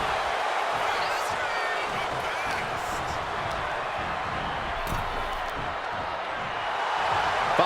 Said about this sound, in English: Fatu drawing a big reaction from the crowd